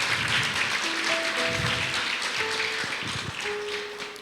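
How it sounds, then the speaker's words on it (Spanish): A church congregation applauds in praise of God, a broad wash of steady clapping that slowly fades, with faint tones sounding beneath it. "denle ese aplauso a Él"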